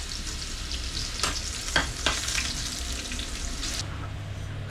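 Mutton sizzling and frying with spices in a pan, a steady loud crackle with a few sharper stirring scrapes partway through and no talking.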